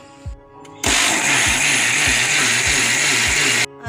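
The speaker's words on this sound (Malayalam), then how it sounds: "പാകത്തിന് വെള്ളം ഒഴിച്ചിട്ട് അരയ്ക്കാം." A mixer grinder whirs loudly and steadily for about three seconds, grinding soaked rice, coconut, salt and water, then cuts off abruptly.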